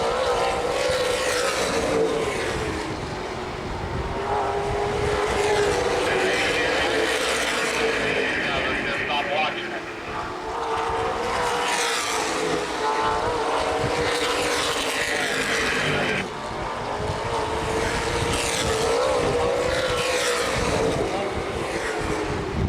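Late model sportsman race cars battle side by side on the Winchester Speedway oval during a feature event, a continuous loud roar of engines with passing swells, under steady race commentary.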